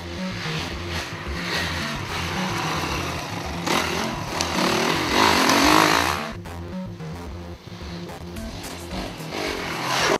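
A Honda CRF250X dirt bike rides over lumpy, gnarly terrain, its engine snarling close and loud with continually rising and falling revs, blipping the throttle throughout with no talk.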